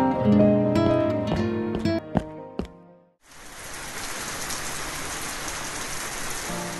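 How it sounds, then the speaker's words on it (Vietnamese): A few seconds of plucked music stop abruptly, then heavy rain pours down in a loud, steady, even hiss that continues to the end. "Trời mưa to thế này"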